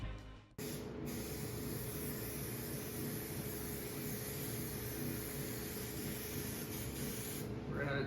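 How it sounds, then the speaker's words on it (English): Adhesive spray glue hissing from an aerosol can onto window shade material, a sharp onset followed by one long, steady, close hiss that continues almost unbroken to the end. "We're gonna try to just spray the whole thing."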